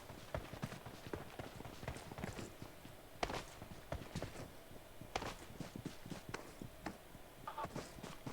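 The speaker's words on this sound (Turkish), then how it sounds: "Şöyle iyice bir ayak sesini duyalım." Rapid in-game footsteps in PUBG Mobile, a busy run of close, crisp steps with a few louder thuds mixed in, heard alone without talk.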